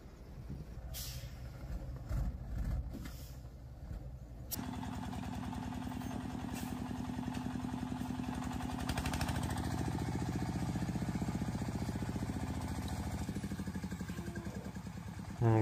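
Walk-behind tractor engine hauling a heavy, strongly welded trailer, a steady low chugging idle after a few brief knocks, running continuously and fairly close with no talking.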